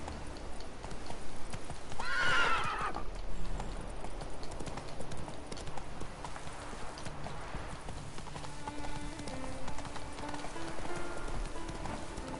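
Roach, the horse in The Witcher 3, clip-clops along steadily under light rain, with a sharp neigh early on and continuous hoofbeats carrying through to the end, faint talk barely present.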